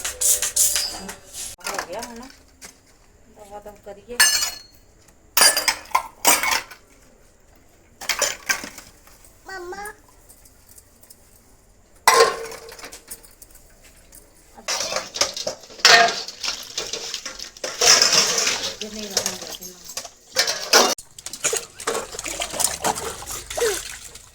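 Dishes and utensils are washed by hand: water trickles and splashes while pots, plates and cutlery clink in irregular bursts, with quiet pauses between and occasional voices.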